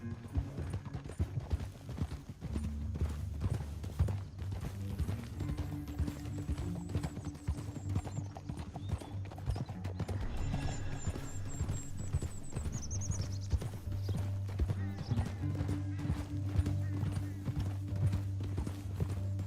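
Horse hooves clip-clop in a steady, continuous rhythm under a droning background, with a brief high whinny partway through, in the video game Red Dead Redemption 2.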